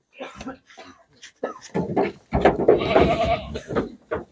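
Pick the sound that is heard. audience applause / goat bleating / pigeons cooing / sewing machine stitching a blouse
goat bleating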